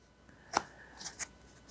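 Tarot cards shuffled and drawn for a reading, giving a few quick soft riffling snaps close by against a quiet room.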